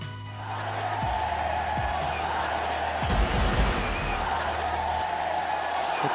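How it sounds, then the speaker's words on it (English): Cricket stadium crowd roaring and screaming in support of Sachin Tendulkar, a continuous loud wash of voices with a few thuds and a swell of noise midway. "You can hear the crowd screaming for their favourite, the little master."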